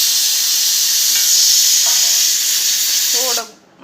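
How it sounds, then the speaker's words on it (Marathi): Cumin and mustard seeds splutter in hot oil in a pan, a loud continuous bright hiss and crackle that stops abruptly near the end, with a voice speaking faintly underneath. "जिरे मोहरी मैत्रिणं चांगली तडतडू द्यायची"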